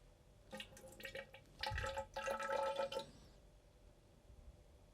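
Fork oil for a Dal Soggio XR bladder kit pours into a fork cartridge chamber, a close liquid gurgle and trickle lasting about two seconds before fading to quiet.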